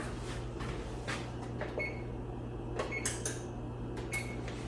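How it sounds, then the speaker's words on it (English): Kitchen oven control panel set to 350 degrees and started, a few short electronic beeps and button presses over a steady background hum, with no one talking. "So I just set the oven to 350 and I put it on start"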